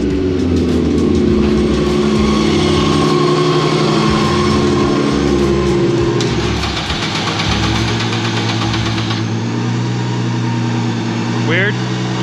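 An Acura RSX engine starts up and revs, its loud, close, steady mechanical drone rising and falling in pitch, with voices talking over it.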